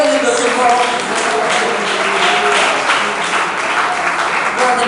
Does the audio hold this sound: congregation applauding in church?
yes